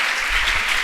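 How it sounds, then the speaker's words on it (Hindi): Brief burst of audience applause from a large seated crowd at a spiritual teaching camp lecture, dense steady clapping lasting under a second with no voices over it. "बजाओ तालियां।"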